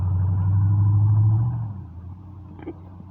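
A passing car roars loudly with heavy low engine rumble, strongest in the first second and a half before fading as it drives fast away, leaving a quieter background hum.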